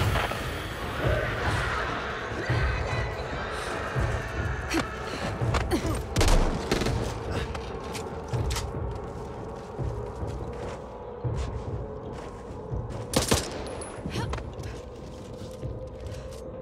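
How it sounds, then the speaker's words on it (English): Gunfire rattles through a Back 4 Blood match, scattered shots and bangs over a steady rumble of game noise, moderately loud with sharp spikes near the middle and end. "Watch where you're fucking firing!"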